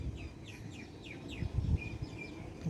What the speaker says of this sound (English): You can hear the sound of birds in the background.